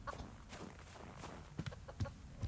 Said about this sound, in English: there's my chickens